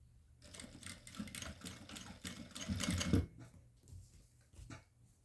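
A sewing machine stitches a fabric border strip onto cloth in a close burst of rapid mechanical clatter that swells, then stops, leaving a few faint clicks and handling sounds with no talking.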